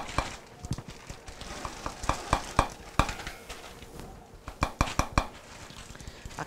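Chopped zucchini tumbles into a soup pot with celery, a scatter of close, sharp knocks and clatters in irregular bursts, some louder and clustered, with a low background hiss.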